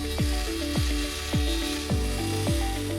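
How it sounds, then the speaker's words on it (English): A Duramax PVC wall panel is cut to length with about five even back-and-forth saw strokes, close and clear, each with a falling scrape, and no voices. "Begin by cutting the first panel to the required length."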